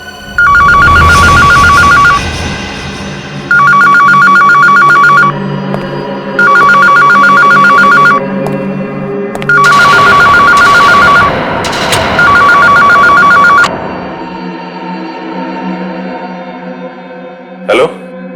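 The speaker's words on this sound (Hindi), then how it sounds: "वो फोन उठाओ" A telephone bell rings loudly in five long repeated bursts with short gaps, the urgent ring typical of a crime drama scene, followed by a brief click near the end.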